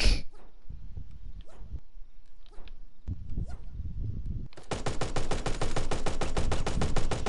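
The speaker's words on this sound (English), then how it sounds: "I think that was a deagle or something" Gunfire in a video game: a few sharp shots early on, then a dense, rapid stream of evenly spaced automatic bursts through the second half, loud and close.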